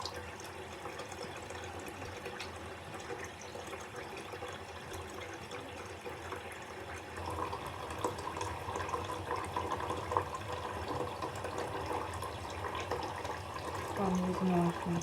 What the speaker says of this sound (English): Now we're gonna wash my face.